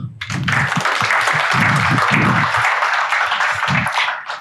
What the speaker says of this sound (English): ladies and gentlemen, with your round of applause, I give you Semih Kumluk